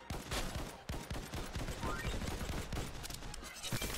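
Rapid gunfire and shooting effects from the roguelite bullet-heaven video game X Invader form a dense, continuous barrage of fast bursts.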